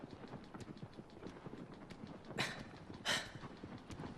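A horse gallops steadily in Shadow of the Colossus, a quick rhythmic clip-clop of hooves at moderate distance, with two brief louder swishes partway through.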